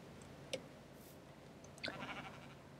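A Minecraft sheep bleats twice, two short, faint calls about a second apart over quiet game ambience.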